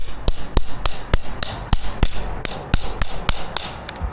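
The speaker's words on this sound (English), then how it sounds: "So sometimes you need to use a hammer and a scraper to get this off." Hammer striking a scraper to knock up vinyl plank flooring glued to a concrete floor with contact cement, about a dozen sharp metallic knocks at an uneven pace, close and loud with no talking.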